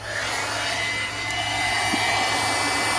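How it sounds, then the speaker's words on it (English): A handheld blow dryer runs in one continuous, steady whoosh that stays fairly loud and close for the whole stretch, with no voices over it. "Get this blow dryer rolling here."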